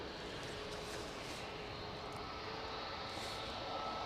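A Ryanair Boeing 737 jet departs Manchester Airport, its engine noise a faint, distant, steady rumble with no voices.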